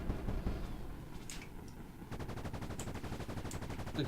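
A very fast-firing gun in a shooting game, rapid evenly spaced shots rattling in a continuous burst that picks up midway after a denser, rumbling opening.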